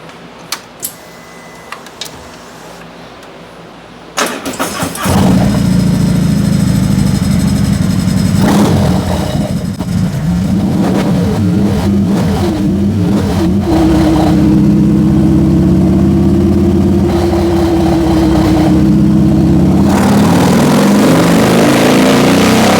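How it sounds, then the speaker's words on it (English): An engine on a dynamometer runs a baseline test, firing up after a few quiet seconds and then holding a loud, steady drone with a sustained rise in pitch midway. "So let's get it running here on the dyno here, find out what we're starting out at"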